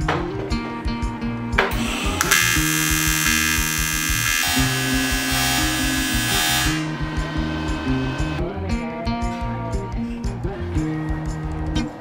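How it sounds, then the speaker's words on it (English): A TIG welder running on AC while a spreader is welded into a custom motorcycle fuel tank, giving a steady loud electrical buzz and hum with a bright high crackle through the middle stretch. "Now I'll set up the TIG on AC and weld in a spreader to create the gap between the tank sides."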